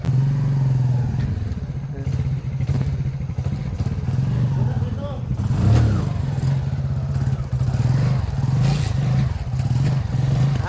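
A motorcycle idling and being maneuvered around on a mountain road in the Hanthana range, its engine a steady low drone with clunks and rustles, close to the microphone, with a voice talking over it.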